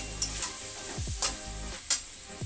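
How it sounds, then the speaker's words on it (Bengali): Meat stir-fries in ghee with a steady sizzle, broken by a few sharp scraping stirs of the spatula at regular intervals, close and fairly quiet. "মাংসটা ঘি দিয়ে কষাবো,"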